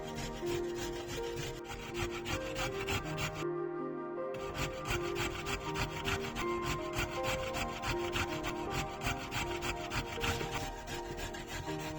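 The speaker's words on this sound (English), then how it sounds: "Next, I am peeling and grating fresh carrots." Fresh carrots are grated by hand in a home kitchen, a steady rapid rasping of strokes that runs close and continuous with one brief pause.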